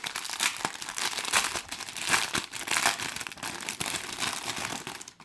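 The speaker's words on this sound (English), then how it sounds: "They're also packed in a plastic bag." A plastic bag of diamond painting stones crinkles and rustles up close, with continuous uneven crackling handling and no talking.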